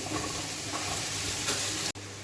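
Diced carrot and oregano fry in a hot pan, giving a steady close sizzle with light stirring scrapes that continues throughout, broken only by one brief cut near the end.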